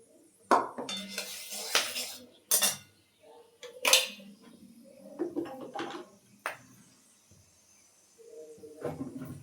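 Goat liver with sliced onion, potato and tomato is mixed by hand in a metal bowl, giving sporadic close clinks and scrapes, with soft squelching between and faint bird cooing in the background.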